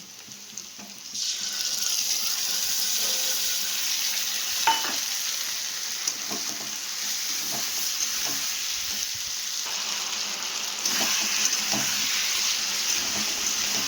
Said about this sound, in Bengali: আর একটু ভাজা ভাজা করবো